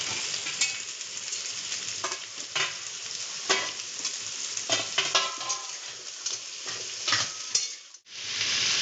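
Diced potatoes fry and sizzle steadily in a pan, broken by irregular scraping stirs from a spatula, close and moderately loud with no talking.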